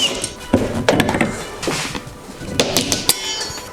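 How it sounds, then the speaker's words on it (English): Plastic and metal clatter as the wiper cowl comes off a 2009 Honda Fit, with scattered knocks, clicks and light clinks close by over a steady background hiss. "First step, I guess, is gonna take the wiper cowl off,"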